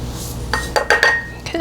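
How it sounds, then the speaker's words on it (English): Spice jars rattle and clink in several quick, close shakes, their glassy knocks sharp against a quiet kitchen background before adding the spices to a homemade all-purpose seasoning mix. "I am shaking up the spices because stuff sits, it settles, and that's why I'm shaking it up before I add them."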